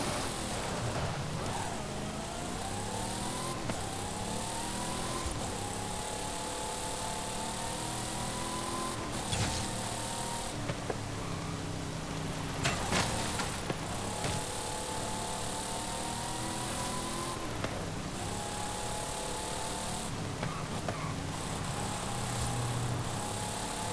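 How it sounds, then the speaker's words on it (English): Supercharged V8 car in Forza Horizon 5, the blower's whine dominating the engine note as it revs through repeated gear changes, rising and falling steadily over a long, loud, continuous run without talk. "So as you'd expect with such a large supercharger, that does kind of dominate the whole noise of the car, but the V8 still does sound good"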